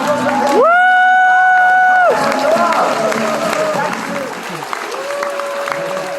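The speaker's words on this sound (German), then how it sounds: "Ein großer Applaus." Big round of applause and cheering from a crowd at a charity kids festival in Gommersheim, loud and sustained, with sung or sustained tonal voices and music layered over it before settling into a busier, noisier crowd murmur.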